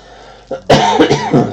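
A single sharp cough, preceded by a brief throat noise, close and loud, with a short rough tail afterward.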